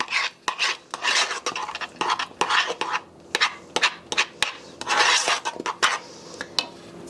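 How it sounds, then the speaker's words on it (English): Spoon stirring pineapple tidbits into a no-bake pineapple lemon pie filling in a pot off the heat, giving close scraping and rubbing strokes with occasional clinks of utensil against the pot, uneven and moderately loud. "to that I'm going to add 1/2 cup of the pineapple tidbits that we had. Stir them in real good."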